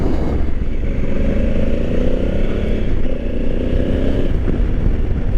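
A 2020 Honda Africa Twin motorcycle rides straight through mud off-road, its engine droning loud and steady with a slight rise in pitch, under constant rough wind and splashing noise.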